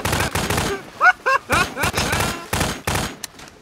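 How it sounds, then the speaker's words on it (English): Rapid bursts of gunfire in Garry's Mod, loud and close, firing in quick clustered volleys with short gaps between them and a little talk in between. "What is he shooting at?"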